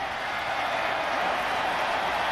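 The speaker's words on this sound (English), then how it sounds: "Crowd's getting into it." A football stadium crowd at a West Virginia versus Marshall college game roars in a steady, loud, broad wash of cheering that holds level throughout, with no distinct voices standing out.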